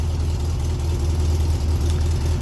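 A VW Super Beetle engine idling, a steady low throbbing rumble with an even pulse, close and fairly loud, with no talk.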